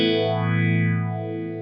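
A sustained, distorted electric guitar chord runs through a Phase 90 style phaser on a Kemper Profiler. A slow swirling sweep rises and falls across the held tone as it gently fades, played alone and close.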